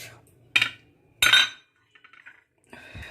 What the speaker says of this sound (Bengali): চলুন ঢাকাটা খোলা যাক।